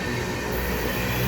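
Steady low rumble from a long, empty ethanol train creeping slowly along a siding, its wagons rolling past continuously with no talk and no distinct clacks.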